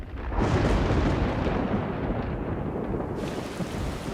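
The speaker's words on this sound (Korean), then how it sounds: "카투마 강에는 비가 내리려고 합니다" Thunder rumbles over steady heavy rain at the Katuma River as the rainy season begins, a loud, continuous wash of rainfall with a deep roll of thunder building near the start and carrying on throughout.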